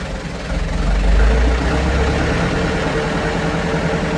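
A Massey Ferguson 698 tractor's diesel engine runs steadily at about 1200 RPM, close and loud, a deep throbbing idle that swells slightly in the first second and then holds an even rumble.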